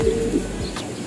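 Racing pigeons give a brief low coo, close and fairly loud, over a faint background.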